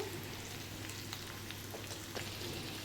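Chicken pepper dry frying in a pan, a steady soft sizzle with faint crackles and light stirring throughout, with no voices.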